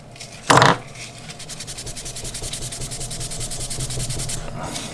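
Rapid, rhythmic rasping strokes of stretchy film sandpaper rubbing back and forth, close and steady, after one louder scraping burst at the start.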